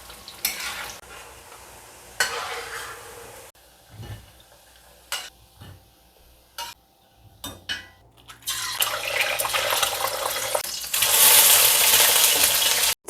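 Chili fries in reused cooking oil, left over from frying sweet potatoes, for sambal bawang. A few clinks and stirring scrapes come first, then a loud, steady sizzle that swells toward the end, with no talking.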